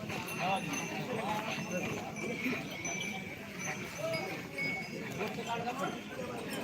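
A busy open-air bull market in Ghatanji, with a dense crowd murmur of voices, shuffling hooves and scattered bells from the livestock, a continuous bustle heard at a moderate distance.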